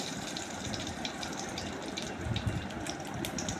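Mustard seeds sizzle in hot oil in a pan, a steady hissing crackle with light pops, close and moderate, no voices.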